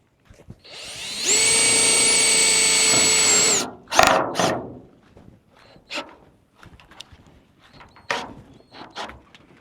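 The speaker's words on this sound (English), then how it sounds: "I can go ahead and put one screw right here" A power drill spins up and drives a screw in one long steady whine lasting about two seconds, followed by a few short clunks and handling knocks. The sound is close and loud with no talk over it.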